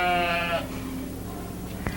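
A single close, loud sheep bleat rings out in a county fair sheep barn, a harmonic wavering call that fades into quieter barn ambience with a brief knock near the end.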